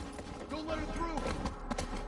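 A horse galloping in a snowy winter scene in The Last of Us Part I, quick rhythmic hoofbeats close by over a low rumble, with shouting voices in the game mixed in.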